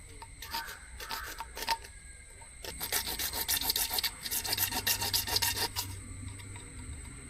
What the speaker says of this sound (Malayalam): ഈ പോർഷനിലൂടെ നമുക്കൊന്ന് കട്ട് ചെയ്ത് ഒരു ഗ്യാപ്പാക്കി കൊടുക്കണം